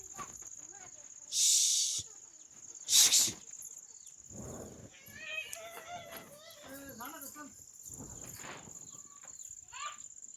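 Chickens cluck in a shed at night and a rooster crows loudly twice early on, with insects buzzing steadily and occasional quiet voices in the background.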